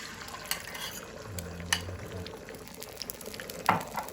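Soft, steady frying sizzle of an omelette in a pan, with occasional utensil taps and scrapes and a faint low hum partway through.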